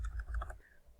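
Brief burst of rapid computer keyboard typing on a Mac, a quick run of light clicks over roughly half a second that then trails off into quiet.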